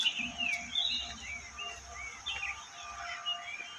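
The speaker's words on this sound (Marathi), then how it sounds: "पक्ष्यांचा आवाज बघा किती." Birds chirp and warble at Sangameshwar railway station in the Konkan after rain, a lively continuous chorus of varied calls in a quiet setting with faint low background rumble.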